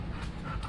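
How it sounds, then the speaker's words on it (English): A dog pants in quick, soft breaths, close and brief, with no talking. "if you hear background noise, especially like panting"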